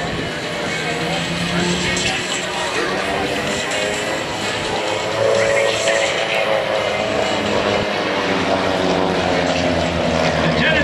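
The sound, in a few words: propeller aircraft flying in formation at air show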